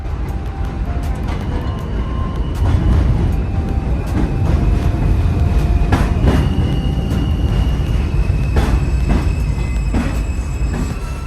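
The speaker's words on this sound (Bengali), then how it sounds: "দেখতেই পাচ্ছেন আমাদের ট্রেন কিন্তু চলে এসেছে।" A New York subway train pulls into a station, a steady loud rumble of wheels and cars with sharp clanks and brief squeals of metal, filling the whole stretch with no talk over it.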